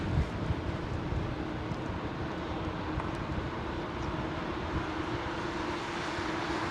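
Sustained aircraft engine drone at Heathrow with a faint steady hum beneath, somewhat distant and even throughout, no talk.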